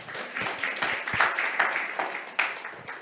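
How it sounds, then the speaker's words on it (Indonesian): A church congregation claps together during a Sunday morning service, a dense wash of applause with steady hand strikes that rises and falls over a few seconds. "Beri tepuk tangan buat Reverend Yope Boyo."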